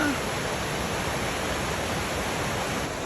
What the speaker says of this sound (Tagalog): Tingnan mo naman ang Ladsudan Falls. Maraming water.